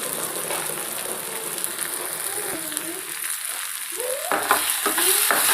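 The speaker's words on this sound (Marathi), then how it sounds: "छान मिक्स करून घेऊया आपण याला।" Chopped tomato frying with turmeric and salt in a pan, a steady sizzle with stirring scrapes that grow louder and busier toward the end, a voice briefly audible underneath.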